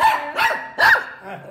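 An angry dog barks nearby, a short run of about four sharp, loud barks with brief gaps and no other sound.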